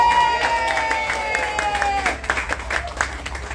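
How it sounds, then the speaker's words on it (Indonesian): Applause and clapping from a crowd at a live event where film actors are called onto the stage one by one, rising after a moment into scattered, uneven claps beneath a host's voice. "Tepuk tangan dong."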